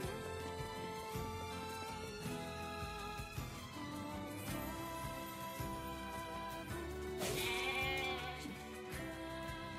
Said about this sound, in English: Just slaughter goats and uh, sheep here while we search.